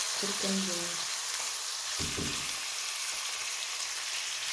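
Chicken breast fries with garlic and onion in a pan, giving a continuous close sizzle with a brief clatter of the pieces being added and stirred, no voices.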